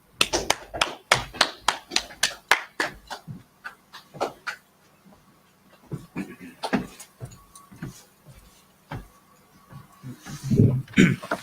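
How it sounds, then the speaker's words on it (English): An audience claps at a church-style gathering, starting as a burst of sharp, separate claps that thin out into scattered hits and murmuring voices, with some louder talk near the end. "Now clap it up."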